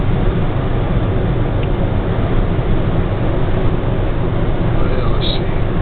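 A Hyundai Ioniq cruises in top gear at 100 mph, a loud, steady broadband roar of road and wind noise with engine drone, constant and close throughout.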